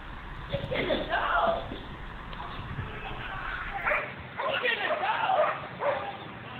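A police dog barks and yips from a played recording, the excited barking mixed with a voice talking over it throughout.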